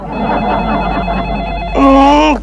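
A telephone rings loudly near the end, a bright electronic trill, after a stretch of background music or murmuring.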